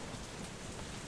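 A rainstorm in Deadlight: a brief, steady wash of heavy rain hiss, even and unbroken, with no distinct thunderclap.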